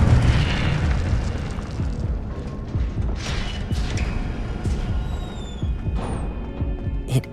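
An Incendio fire spell cast in the Hogwarts Legacy video game bursts in a dense, booming rush of flame and impact noise, loud and close, rolling on steadily with scattered crackles and pops and no talk.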